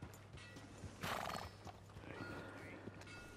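A horse whinnies loudly in the middle of a Red Dead Redemption 2 game scene, with hooves clip-clopping faintly before and after, set against a low background hum.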